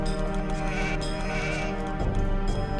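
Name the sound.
sheep bleating in Age of Empires video game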